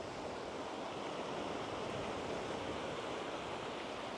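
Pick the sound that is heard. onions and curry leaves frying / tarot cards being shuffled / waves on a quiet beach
waves on a quiet beach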